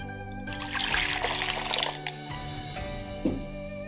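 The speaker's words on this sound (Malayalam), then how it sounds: "വാട്ടർമെലൺ ഒഴിച്ച് കൊടുക്കാം." Blended watermelon poured from a blender into a container for a milkshake, a close steady liquid trickle and splash over a continuous hum, ending with a soft knock.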